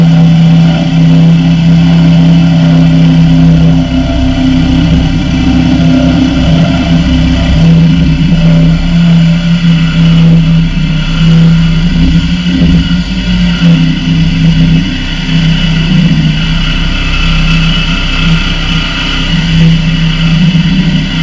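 A power saw cuts pipe during a bathroom remodel, giving a loud, continuous, steady whine with a strong droning tone that holds level throughout.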